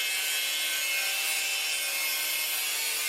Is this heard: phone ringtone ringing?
no